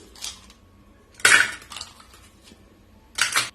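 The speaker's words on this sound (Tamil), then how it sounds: "இதுல நம்ம ஐஸ் கியூப்ஸ் போட்டுக்கலாம்." Ice cubes dropped into a glass for watermelon juice, three bright clinking bursts spaced apart, the middle one loudest, close and clear with quiet between them.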